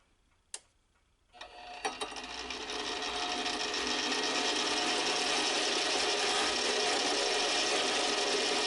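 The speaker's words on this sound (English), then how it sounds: "And I'm just taking, about 20 thousandths off the diameter" A metal lathe cuts down the diameter of a Stirling engine column, taking about twenty thousandths off with WD-40 as lubricant; a couple of clicks lead into a steady, continuous high machining hiss that builds and holds.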